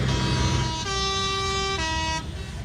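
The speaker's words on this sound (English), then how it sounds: "It sounded some very loud air horns in the background there." Very loud truck air horns blasting at a truck racing circuit, a sustained harmonic tone with a pitch shift midway, lasting nearly two seconds over background noise.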